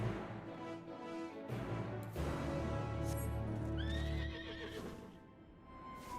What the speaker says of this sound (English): Six-legged horse.